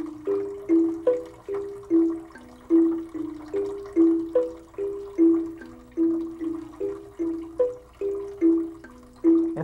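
Falling water drips in a steady rhythm, each drop ringing as a clear, tonal plink. The drops repeat in a regular pattern over a soft continuous base, close and unaccompanied by voices.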